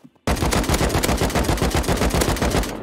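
Rapid automatic gunfire in the game Rust, loud and close, starting sharply after a brief quiet moment and continuing as a steady stream of evenly spaced shots for over two seconds before cutting off.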